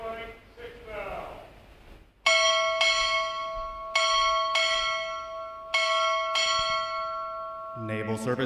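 A ship's bell rings in ringing paired strikes, three pairs spaced evenly with long resonant decay, announcing an arriving command at a U.S. Navy recruit graduation ceremony; spoken announcements come before and after.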